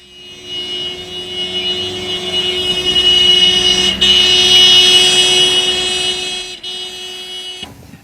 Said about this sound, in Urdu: اگر کوئی گاڑی ہارن بجاتی ہوئی آپ کی طرف تیزی سے آئے تو اس کی آواز اور ہوتی ہے، اور جب گزر کر دور جانے لگے تو اور ہوتی ہے